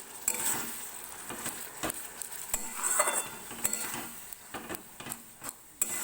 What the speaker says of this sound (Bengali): এখানে আমি 3টে টমেটো পেস্ট করে রেখেছি, তো সেটা দিয়ে দিলাম।